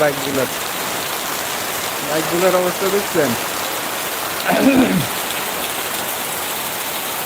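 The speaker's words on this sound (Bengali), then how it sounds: "আরে ভাই কি যে বৃষ্টি হচ্ছে" Heavy rain pours down in a constant, loud, hissing roar that never lets up, while someone speaks over it in a few short bursts.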